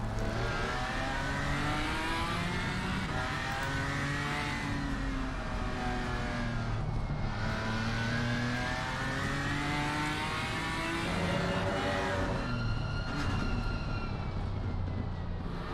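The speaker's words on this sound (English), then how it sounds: "We will go on board for the McLaren for their first flying lap of this session." A McLaren GT4 race car's engine wails through a flying lap at the Nurburgring, revving hard and rising and falling with each gear change, loud and close from on board with no talk.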